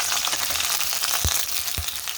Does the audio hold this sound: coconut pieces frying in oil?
yes